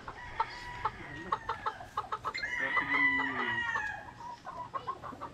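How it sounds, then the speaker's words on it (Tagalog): Young roosters (stags) on a poultry farm cluck in short, close bursts. One crows loudly in a drawn-out call partway through, and the clucking continues around it. "unahin muna natin yung mga stag natin"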